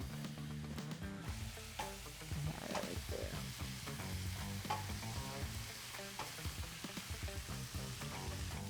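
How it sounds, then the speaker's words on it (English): Chilies and onion frying in a hot pan, with a steady loud sizzle and crackle plus intermittent scraping stirs and utensil clatter throughout, no talking. "First thing that goes into the pan while it's still hot, chilies and onion."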